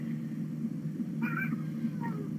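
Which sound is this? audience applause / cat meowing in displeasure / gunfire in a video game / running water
cat meowing in displeasure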